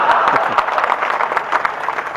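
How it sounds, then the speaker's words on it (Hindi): Audience applause at a Hindi poetry recital, a short burst of brisk, loud clapping from a crowd, steady throughout. "आपकी तालियां चाहूंगा साहब"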